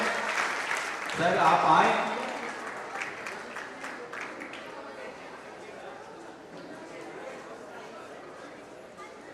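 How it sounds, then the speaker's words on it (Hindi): Applause from the audience at a Jawahar Navodaya Vidyalaya Begusarai alumni meet, a brief louder burst early, then fading into scattered clapping and chatter, with a voice speaking briefly. "तो जरा तालियां हो जाए भाई, तालियां बजती रहे।"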